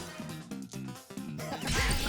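An ice-shattering effect from the video game Dicey Dungeons breaks out as a crunchy, bright crash over busy game music, swelling into a burst of glassy noise at the end.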